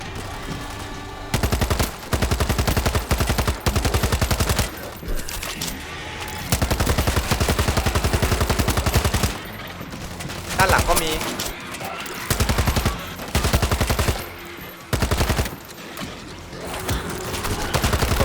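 Sustained bursts of rapid automatic gunfire from a video game zombie shooter as players fend off a horde, loud rattling volleys with brief pauses between, under excited voices talking.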